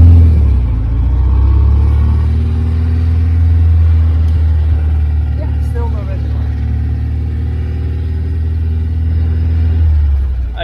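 A four-cylinder Austin Healey engine with steel crank, steel rods and special pistons rated at 160 brake horsepower runs with a steady low rumble, loud and close, while someone talks over it.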